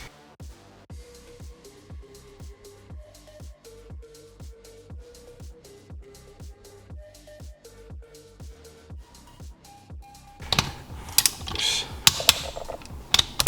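Ratcheting torque wrench tightening the cylinder bolts of a Sea-Doo 717 engine in a crisscross pattern to 17 foot-pounds: steady rhythmic clicking ratchet strokes, close and clear, ending in a louder burst of metallic clatter.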